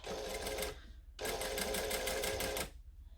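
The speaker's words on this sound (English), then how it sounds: "So we're going to stitch and back stitch." A sewing machine runs close up, stitching a seam allowance down onto a facing in two loud, fast, whirring bursts with a brief pause between them for the backstitch, ending in quiet handling noise.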